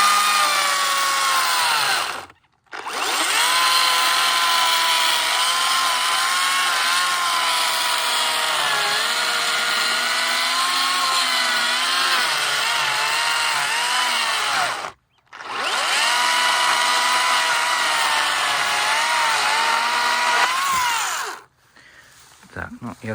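Makita DUC254 cordless chainsaw cutting through old, long-lying wood: a loud, steady motor whine that runs through two long cuts, with short pauses between them.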